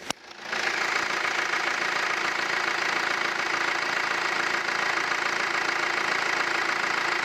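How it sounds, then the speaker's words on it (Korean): Hyundai Santa Fe 2.0 diesel SUV engine idling close by with the bonnet open, a steady rattling, knocking drone that starts abruptly and holds evenly throughout, with no other sounds. "산타페 차량의 엔진 소리까지 제가 옆에서 한번 들어봤는데요"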